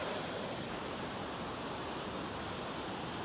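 Loud, steady rushing of the Sajon waterfall at Lago di Antrona, a dense broadband roar close by with no other sounds.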